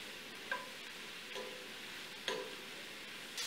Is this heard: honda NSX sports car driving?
no